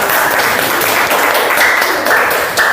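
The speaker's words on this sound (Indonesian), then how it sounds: "Kita beri aplaus untuk kelompok 5." Audience applause for a student group after its class presentation, a steady wash of clapping filling the whole moment without pause.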